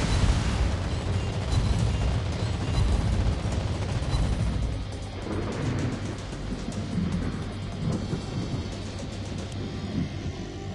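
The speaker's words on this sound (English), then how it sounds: "Anti-aircraft gun on full alert." Anti-aircraft gunfire in World of Warships Blitz from a Halland destroyer: continuous dense rattling bursts and rumbling blasts over a loud battle din, steady throughout.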